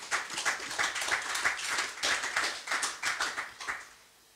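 A church congregation applauding together, with dense rhythmic clapping that holds steady for a few seconds before fading out.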